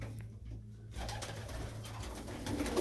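Pigeons coo softly inside a pigeon loft holding older birds, a low steady murmur of calls running under faint rustling throughout, with no voices.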